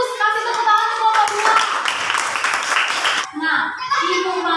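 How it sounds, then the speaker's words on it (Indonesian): A primary school class claps for a group, a burst of loud applause lasting about two seconds between a teacher's speech before and after. "Kasih tepuk tangan untuk kelompok"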